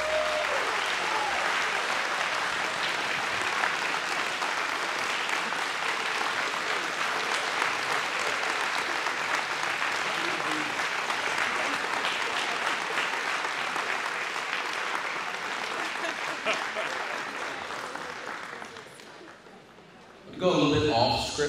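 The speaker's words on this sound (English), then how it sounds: "can we please all give them another round of applause?" An audience gives a sustained round of applause at an evening speakers' event, dense clapping holding steady for most of the time before fading out, followed by a brief burst of sound at the end.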